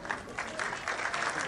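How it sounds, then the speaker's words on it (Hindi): An audience at a World Thalassemia Day celebration with NGO children applauds loudly, a sustained wash of clapping from a crowd that holds steady throughout. "जोरदार तालियों से गुरमीत जी को मैं इनवाइट करना चाहता हूं"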